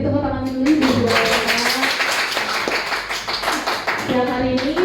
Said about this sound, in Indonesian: Beri tepuk tangan dulu Ibu.